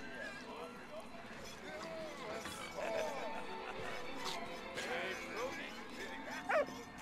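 A small dog in the video game Valiant Hearts gives several short yips, barks and whimpers at close range, with a voice audible in the background.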